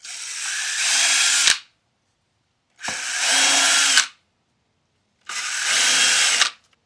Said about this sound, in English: And then drill it on a piece of wood.